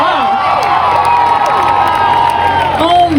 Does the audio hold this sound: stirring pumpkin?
no